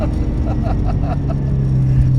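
A 575 hp LS3 V8-swapped Jaguar XJ8L drives through a tunnel, its engine a steady, dense low rumble heard from inside the cabin, with faint rhythmic pulses above the drone and no clear talk.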